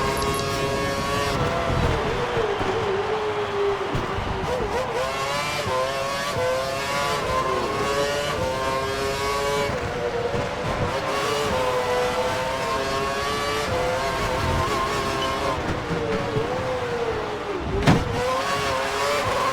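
A Formula 1 car engine in the F1 2012 racing game screams at high revs, its whining harmonics rising and falling steadily through gear changes for the whole stretch, loud and continuous with no talking.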